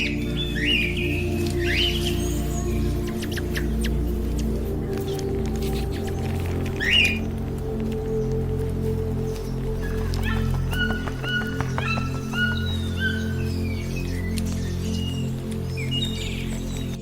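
Birds of the Amazon rainforest chirp and whistle in scattered short calls over a steady low background, some calls near and sharp, others faint and distant.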